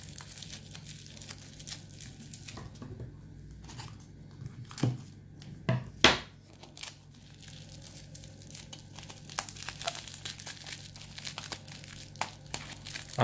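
A coin is wrapped in bubble wrap and sealed with tape, giving close crinkling and crackling of plastic with a few sharp rips and snaps spread through the stretch.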